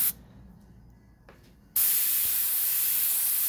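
Airbrush spraying paint during shading and lace line work: a soft hiss that cuts off briefly, then bursts back as a loud, steady, close spray that continues to the end.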